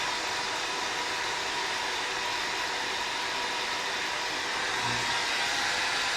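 Vacuum pump pulling down a clamped guitar part during a glue-up on a 1964 ES-335 style build, a steady broadband hiss and hum running continuously and fairly loud throughout, with no talking.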